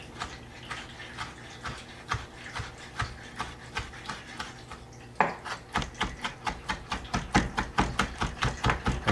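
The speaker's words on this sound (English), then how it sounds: "I'm slicing against the cutting board to make sure that I chop through all those tough skins" A knife chops tough onion skins on a cutting board, a steady run of sharp, close knocks that quickens and grows louder partway through, with no talking.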